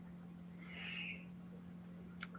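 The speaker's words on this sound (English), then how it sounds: "it's like an owl flying around right now too" An owl screeches once at night, a faint, brief, high call breaking through steady background hum near the end, with a softer hiss earlier.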